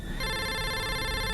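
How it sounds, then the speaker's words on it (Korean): Electronic phone ring as a call is placed, a steady bright tone that starts abruptly and holds evenly, close and clear with no talking. "그래서 휴대폰을 꺼내 남자친구에게 전화를 걸었다."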